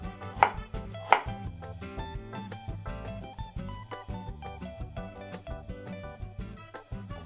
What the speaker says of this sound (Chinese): 切成薄片。